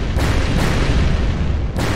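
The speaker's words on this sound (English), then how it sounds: "A series of explosions destroyed the entrance where we escaped." A series of loud explosions in the video game Purgatory 2 destroys an entrance. Heavy, continuous booming rumble with several sharper blasts breaking through, close and alone with no talk.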